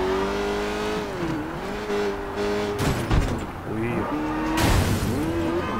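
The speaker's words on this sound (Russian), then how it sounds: "Отличный спорткар, я бы даже сказал." A sports car engine in the Sleeping Dogs video game revs and shifts, its steady droning tone rising and dipping through gear changes, close and loud, with someone speaking over it.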